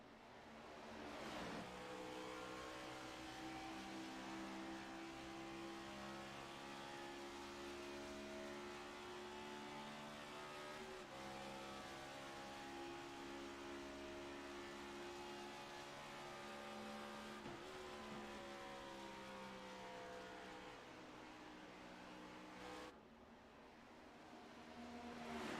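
Onboard race car engine at Pocono Raceway in the sim racing game iRacing, a steady high drone that climbs in pitch, drops sharply at gear or braking points and climbs again, close and continuous with no voices.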